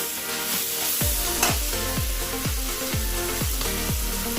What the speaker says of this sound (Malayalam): ഇനി നമുക്കൊന്ന് നന്നായി ഒന്ന് ഇളക്കി കൊടുക്കാം